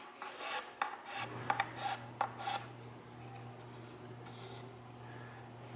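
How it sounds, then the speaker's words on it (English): A scraper rasps across a grimy guitar fretboard in short, gritty strokes, close and fairly quiet. Scraping is clearest at the start, then softer strokes continue over a steady low hum. "Noticed how cruddy the fretboard is, and just hitting it with my scraper"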